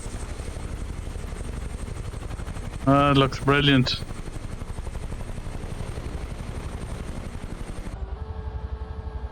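A helicopter engine in Microsoft Flight Simulator 2024, played in VR, gives a steady rotor and engine drone; someone speaks briefly over it before the sound drops sharply near the end.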